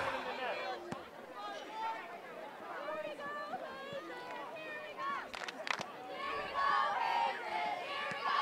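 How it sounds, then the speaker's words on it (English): Hometown crowd at a boys' high school soccer game cheering on their team, a steady distant roar of voices and shouts with scattered whistles and yells, moderately loud throughout. "Hometown crowd cheering on their team."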